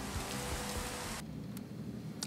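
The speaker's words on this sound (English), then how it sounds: "get rid of this rain" Steady rain in the video game Minecraft hisses evenly for about a second, then cuts off abruptly, leaving a quieter background with a couple of faint clicks.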